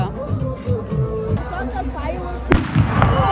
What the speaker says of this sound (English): Fireworks while they're warming up.